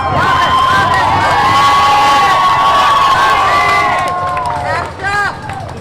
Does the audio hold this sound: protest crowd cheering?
yes